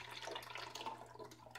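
Liquid dog soap is poured into a mold, giving a faint, quiet trickling and splashing with scattered small drips and no talking.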